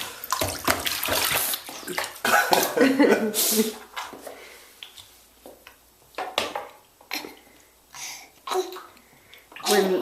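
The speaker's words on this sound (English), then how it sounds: "Brooke, enjoy your bath" Water splashes and sloshes as a young child is bathed in a bathtub, with irregular close splashing bursts while the child babbles and an adult talks throughout.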